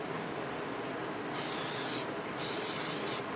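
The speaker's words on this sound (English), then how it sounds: "So I'm going to spray this with some" Cooking spray hisses onto a waffle maker in two short bursts, each about a second long, with a brief pause between, close and fairly loud over a quiet kitchen background.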